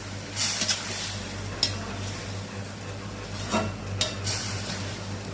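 Poha sweet being stirred in a pan, soft scraping strokes with a few sharper clinks of the spoon against metal, steady low background hum, no talking.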